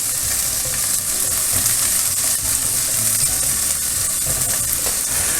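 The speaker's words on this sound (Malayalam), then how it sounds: "നെയ്യ് ചൂടാകുമ്പോൾ അതിൽ കുറച്ച് ചെറിയ ഉള്ളി, സവാള ഉപയോഗിക്കേണ്ട കേട്ടോ, ചെറിയ ഉള്ളിയാണ് നല്ലത് എപ്പോഴും. ഒന്നിട്ട് മൂപ്പിക്കുക." Small shallots frying in hot ghee for mutton soup, a loud, dense, continuous sizzle with occasional stirring scrapes throughout, no voices present.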